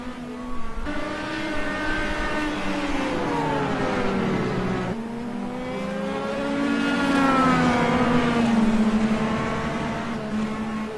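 Race cars roaring loudly nearby with sustained engine notes that rise and fall in pitch as they accelerate and pass, two cars dueling closely on track.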